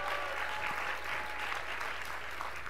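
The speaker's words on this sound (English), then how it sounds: "let's have a round of applause" A large audience at an on-stage interview event gives a round of applause, a continuous, even crackle of clapping from a full room, heard at a moderate distance with no speech over it.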